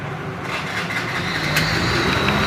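A car engine cranks and catches on a weak 12-volt battery, then runs steadily, a continuous loud mid-pitched rumble filling the whole stretch with no pause.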